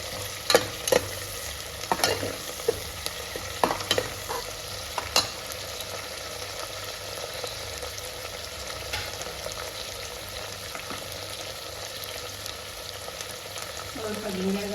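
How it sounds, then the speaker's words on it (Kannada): Chicken biryani masala with green chillies frying in a pan, a steady background sizzle broken by scattered scraping and clinking stirs, with a few louder strokes early on. "ಫ್ರೈ ಆಗ್ತಾಯಿದೆ."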